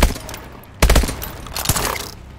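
Rapid gunfire through walls in Call of Duty: Advanced Warfare, loud close bursts of automatic shots with a brief pause between volleys.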